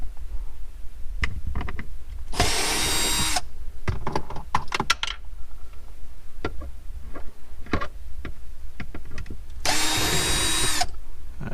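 A power drill backs out screws from a Mitsubishi Evo X car interior trim in two short whirring bursts about a second long each, near and loud, separated by clicks, rattles and handling noises.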